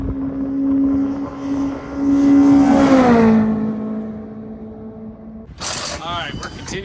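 A BMW E36 racecar pulls into the pits, its engine droning loud and close, then its pitch sweeping down as it slows, with people talking.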